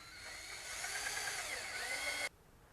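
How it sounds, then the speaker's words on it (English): Power drill whining at high pitch as it bores a 1/4 inch hole through a metal screen door, its tone shifting under load before cutting off abruptly near the end. "you're going to drill a 1/4 inch hole in through the metal"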